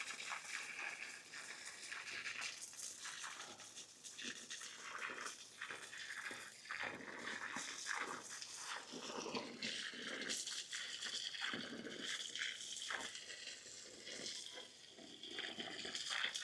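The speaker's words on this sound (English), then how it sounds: "Just water them, water the fertilizer into the soil." Water poured over corn plants in a home garden, soaking fertilizer into the soil, a steady splashing and trickling that runs on unbroken for the whole stretch, close by with no talk.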